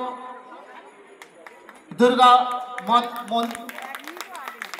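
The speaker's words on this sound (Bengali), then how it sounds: "একটু জোরে হাততালি" A crowd at a village Durga Puja inauguration breaks into applause after about two seconds, with the clapping rising loud beneath an announcer's amplified voice and chatter.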